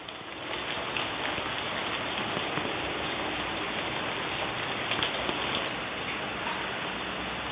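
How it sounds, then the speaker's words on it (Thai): Steady rain falls outside during cooking, a soft, even hiss of drops on surfaces that continues unbroken at a moderate, fairly distant level. "บรรยากาศฝนตกนะครับ"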